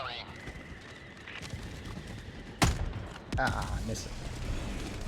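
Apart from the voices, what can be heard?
enemy artillery fire in the video game Helldivers 2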